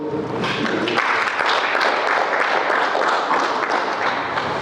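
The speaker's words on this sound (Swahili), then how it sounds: "hamtaki kuwapigia makofi, mwapigie makofi" Audience clapping at a meeting on pending county bills, a steady dense patter of many hands lasting a few seconds at moderate loudness, with little talk over it.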